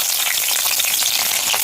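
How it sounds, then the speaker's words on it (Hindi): Sliced onion frying in hot oil with cumin seeds and bay leaf, a dense continuous sizzle with crackling pops, close and steady throughout. "ये ऑयल गर्म हो गया, जीरा तेजपात दे दिया था और इसमें हम प्याज दे दिया है।"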